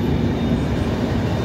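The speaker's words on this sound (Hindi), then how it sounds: "गाइस देखिए हमारी ट्रेन का पैरेलल चल रहा है" The Vikramshila Express runs alongside another express train on a parallel track, making a loud, close, continuous low rumble with no distinct wheel clatter.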